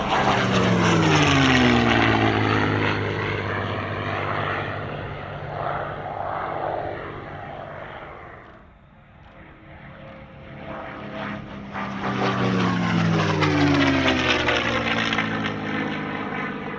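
A P-51D Mustang warbird flies past at an airshow, its piston engine and propeller giving a loud, rich drone that rises and sweeps by, dips briefly, then swells again as it passes near.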